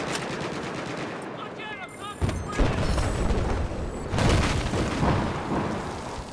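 Rapid automatic gunfire in a Battlefield 4 multiplayer match, bursts of loud shots and booms coming in clusters, with a player talking between the volleys.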